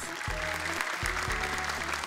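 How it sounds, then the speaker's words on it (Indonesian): Audience applause for a young contestant named Akil from Bengkalis at a televised Quran memorization competition, steady clapping over a low musical drone with bass pulses, moderately loud and continuous throughout. "Boleh tepuk tangan dan semangat untuk Akil Bengkalis"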